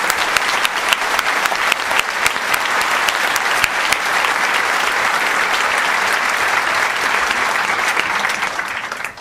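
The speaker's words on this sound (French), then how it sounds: "Oui, vous pouvez les applaudir" Sustained, dense audience applause at an anti-war communist meeting, loud and even from start to finish with no talk over it.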